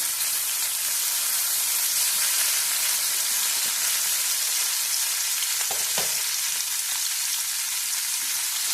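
Two thick-sliced tomatoes fry in oil in a hot pan, giving a loud, continuous crackling sizzle with a steady hiss and an occasional faint stir.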